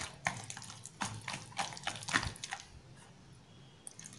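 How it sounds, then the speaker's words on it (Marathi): Water is poured little by little into a bowl of potato batter and mixed, producing faint, soft splashes and wet sloshing bursts at irregular intervals, quieter toward the end. "पाणी थोडं थोडं घाला, मी घालते त्या प्रकारे, आणि मिक्स करायचं आहे।"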